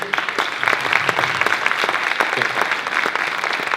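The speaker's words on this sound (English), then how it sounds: "give Kevin a big round of applause" Steady applause from an expo audience, dense clapping filling the whole stretch at a constant level without letting up.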